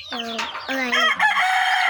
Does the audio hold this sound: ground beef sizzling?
no